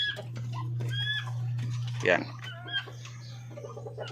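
Chocolate Orpington chickens cluck in short bursts while being fed a vegetable mix with rice bran and water spinach, with a steady hum underneath and someone talking over them.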